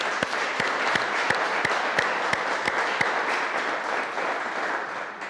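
Applause at a municipal council meeting marking the installation of newly elected deputy mayors: a few distinct, spaced claps lead into steady, moderately loud clapping from a small assembly, fading slightly toward the end.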